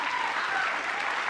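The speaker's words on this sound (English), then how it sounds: "Somebody clap for me." An audience claps steadily at a campaign event for a new building, a continuous, moderately faint patter of many hands with no pauses.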